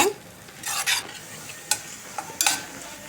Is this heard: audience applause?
no